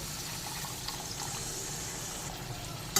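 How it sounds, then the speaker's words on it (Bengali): Water poured into a pan of fish curry with potatoes and cooked-down spices to make gravy, a steady close rushing splash and trickle lasting a few seconds, with no talking. "এবার ঝোলের জন্য জল দিয়ে দেব।"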